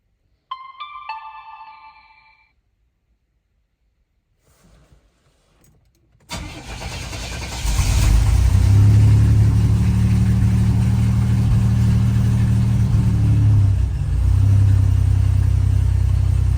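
On a GM G-body car, a brief electronic chime comes first and then quiet, then the starter cranks and the engine catches on a cold start and settles into a loud, steady, close idle with a low drone.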